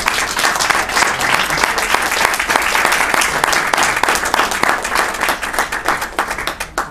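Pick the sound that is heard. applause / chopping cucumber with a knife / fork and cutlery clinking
applause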